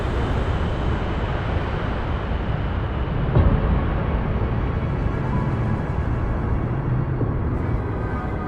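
Airplane taking off from a runway in Microsoft Flight Simulator, a loud continuous engine roar that holds steady and full throughout, with no voices.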